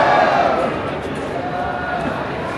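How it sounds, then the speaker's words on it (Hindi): A dense, steady murmur of a large crowd of pilgrims at the Khatu Shyam temple during morning aarti, continuous and close around, with voices blending into one wash. "कितनी भीड़ है सुबह आरती के टाइम पे भी।"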